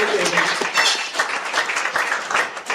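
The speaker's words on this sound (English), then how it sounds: "a big round of applause, please." Studio audience giving a guest from Akwa Ibom a round of applause, a dense, lively burst of many hands clapping at close range, with voices mixed in.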